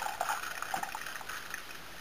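A Tassimo coffee machine blowing out its remaining water, a brief close gurgling trickle with sputtering bursts and a faint background hiss.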